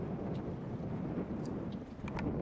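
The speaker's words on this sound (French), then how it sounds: "aujourd'hui c'est un peu plus venteux" Steady wind gusts across a sheltered boat anchorage behind a sandbar, with a constant low roar and microphone buffeting and faint higher rustles, no one talking.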